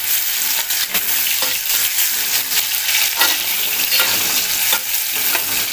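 Chopped raw tomatoes and onions fry in a pan, a steady close sizzle broken by repeated scraping stirs of a spoon, with no talking.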